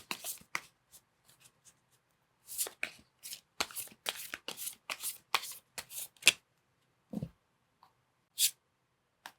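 Tarot cards are shuffled and drawn by hand, a run of crisp riffling bursts and soft slaps of varying length, close and fairly quiet, with brief pauses between and no talk.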